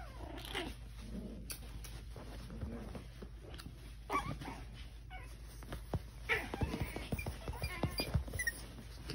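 A Yorkie puppy makes quiet scattered yips and whimpers along with soft pattering and shuffling sounds, all fairly faint and close by, with no talk.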